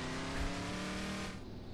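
A truck engine drives steadily in the farming game Ranch Simulator, its low drone and faint harmonic whine holding even and close before easing off slightly near the end, with no voices.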